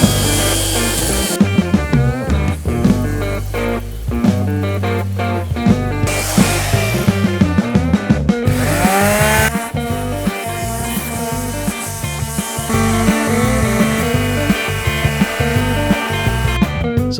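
Harsh, grinding whir of a power sander working against a wooden door, loud and continuous with shifting pitch as it moves across the surface.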